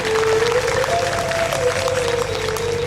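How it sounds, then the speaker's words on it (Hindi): Steady, dense applause from a crowd at a spiritual discourse, with a sustained musical tone or hum running beneath it throughout. "जोरदार तालियों से स्वागत।"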